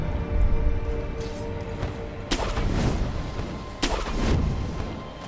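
Flint cannon fire in the video game Sekiro: Shadows Die Twice, heard as two heavy booming blasts a second or so apart over a rumbling game background.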